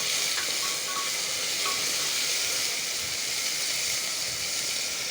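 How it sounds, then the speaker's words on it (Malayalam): Chopped tomato and carrot are stirred in a frying pan for veg masala khichdi, with a steady, close hissing sizzle running throughout. "തക്കാളി കട്ട് ചെയ്തത്, അതും ഇട്ട് കൊടുക്കാം, ഇളക്കി കൊടുക്കാം."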